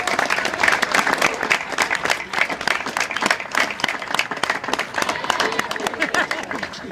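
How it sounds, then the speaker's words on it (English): A large crowd at a New Jersey event with Governor Christie claps steadily and loudly in a dense, continuous wash of applause with no pause. "You all deserve a round of applause for yourselves."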